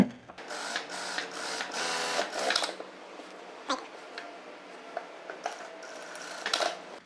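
A sewing machine stitches a blouse along a marked line, with a few rapid whirring bursts separated by pauses and light handling clicks, heard close by.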